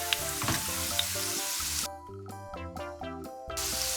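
Garlic cloves fry in plenty of olive oil, giving a steady close sizzle and crackle. Music plays over it, and the bright frying hiss drops out briefly in the middle before returning.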